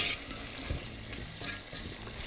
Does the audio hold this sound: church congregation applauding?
no